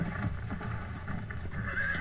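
A horse whinnies and neighs in the video game Red Dead Redemption, loud and close over a steady game ambience with clip-clopping hooves, no speech.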